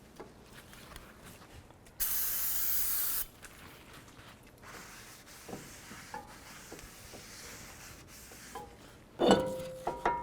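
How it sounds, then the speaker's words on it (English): Brake parts cleaner hisses from an aerosol can onto a 2009-15 Toyota Prius front brake rotor in one steady burst of about a second, followed by quieter rubbing and clicking as the part is handled. "Just take some brake parts cleaner, then a rag, and just wipe it down."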